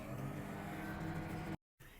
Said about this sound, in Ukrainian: Включаєш мікрохвильову піч буквально на 30 секунд.